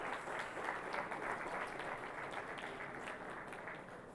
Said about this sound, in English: That in and of itself deserves a round of applause, ladies and gentlemen.